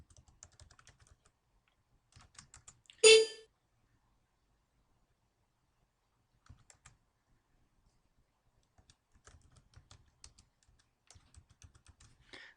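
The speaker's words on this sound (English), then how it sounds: "we'll want to type in the command that allows us to run the script to get the materials" Soft, sparse typing on a computer keyboard while a command is entered for an EMC VNX Unified Storage Array, with short clusters of light key clicks and one louder bang near the start, heard quietly without speech.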